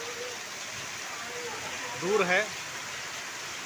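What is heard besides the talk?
heavy first monsoon rain in Mandla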